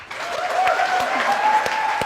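Audience applause at a live Q&A event with Emma Watson, a steady dense wash of clapping filling the whole stretch, loud and close, with no talk over it.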